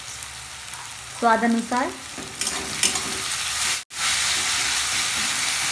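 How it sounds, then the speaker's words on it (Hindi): Sliced onions frying on high flame in a pan with salt added, steady loud sizzling throughout with brief stirring clatter, while a person talks briefly over it. "हम प्याज को ऐसे ही 2 मिनट तक हाई फ्लेम पे फ्राई करेंगे"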